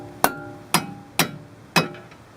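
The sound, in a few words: rubber mallet striking castle nut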